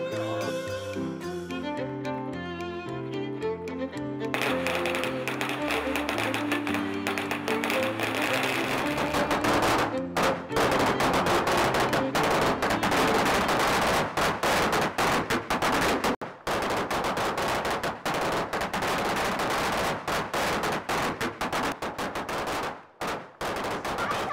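A long string of firecrackers goes off during a bride's send-off, setting up a dense, rapid crackle of small bangs that runs for about twenty seconds after a few seconds of tonal music.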